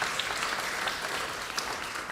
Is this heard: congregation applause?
yes